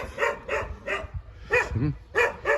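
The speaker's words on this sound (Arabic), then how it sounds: "بنعتذر عن الكلاب اللي بتهوهو دي مأثرة على الصوت" Several dogs bark repeatedly near a villa with mango trees, sharp rapid barks coming in quick bursts with brief gaps, fairly close and loud.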